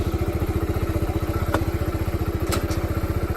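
A new Kawasaki Z125 motorcycle idles with a steady, close, throbbing putter, broken by a sharp clack and a clunk as it is shifted into first gear.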